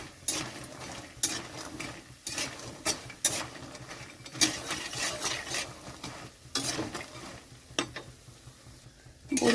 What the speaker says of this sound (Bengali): কড়াইতে তেল দেওয়া হয়ে গেছে, অলরেডি গরম হয়ে গেছে তেলটা। তো ওখানে বড়িটা দিয়ে দিচ্ছি ভাজার জন্য।